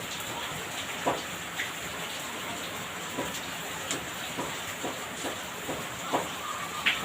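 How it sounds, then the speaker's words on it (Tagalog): Heavy rain falls steadily outdoors in the Philippines, a constant wash of hiss with scattered louder drip taps and plinks close by, and no one speaking. "Umulan talaga dito sa amin. Ulan na ulan."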